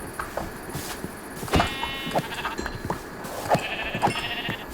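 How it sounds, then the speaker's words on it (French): Several sheep bleat in short, scattered calls in modded Minecraft over a steady background hum, with no talking. "Bah oui ils sont là mes petits moutons."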